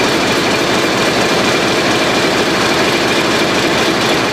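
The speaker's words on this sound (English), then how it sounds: "I'm really surprised about these diesel engines." A ship's diesel engines running in the onboard power station, a loud, dense and constant drone with a heavy low rumble, steady and unbroken throughout.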